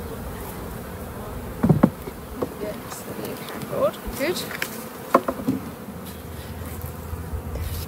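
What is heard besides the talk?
honeybees buzzing after being brushed off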